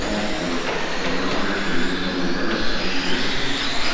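A small electric RC dirt late model car racing on a dirt track, its motor giving a steady, continuous whine and rumble that holds at an even loudness throughout without pause.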